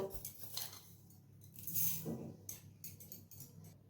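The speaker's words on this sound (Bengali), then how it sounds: "এখানে আমি একটা মিক্সির জার নিয়েছি, সেই জারে আমি 2 চামচ কালো সর্ষে দেব।" Two spoonfuls of black mustard seeds tip into a mixer jar, giving a light metallic clatter and faint scattered clinks from the spoon and the jar.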